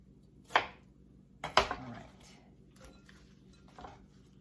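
Knife slicing through larger cucumbers, being halved for a salad with tomatoes: a sharp chop, then a quick pair of cuts a second later, followed by fainter kitchen handling sounds.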